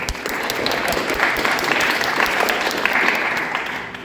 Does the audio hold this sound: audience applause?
yes